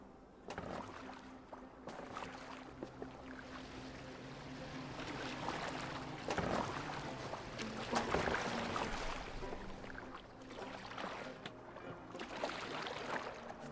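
A boat moves across water in Assassin's Creed Valhalla, with steady rushing and splashing from the hull alongside a low droning game score, continuous and fairly loud for about fourteen seconds.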